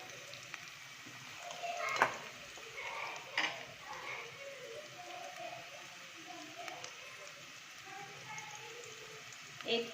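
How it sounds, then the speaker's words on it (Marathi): Onion fries in a spiced tempering in a pan, a soft continuous sizzle broken by a few sharp scrapes and clinks of stirring, close and fairly quiet, with no voices. "आपला कांदा आपण फोडणीला टाकलेला आहे तो शिजत आलेला आहे व्यवस्थित."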